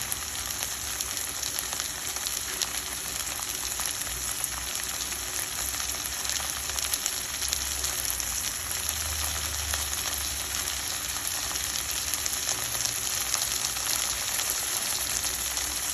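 Soaked moong dal frying in oil, a continuous even sizzle close by with faint stirring, no talk.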